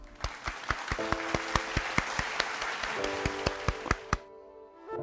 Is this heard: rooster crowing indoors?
no